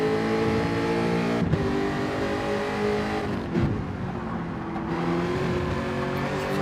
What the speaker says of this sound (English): Just feathering that throttle on the way through.